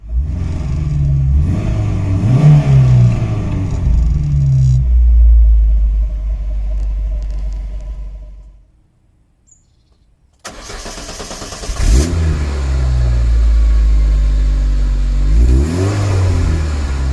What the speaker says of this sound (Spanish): cuyo gran protagonista es su motor 1500 System Porsche